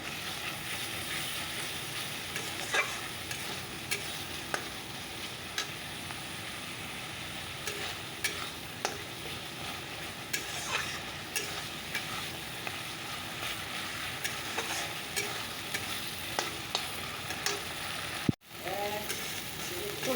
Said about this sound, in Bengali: লবণ আর হলুদটা দিয়ে দিই তো চলো মশলাটাকে কষিয়ে নিই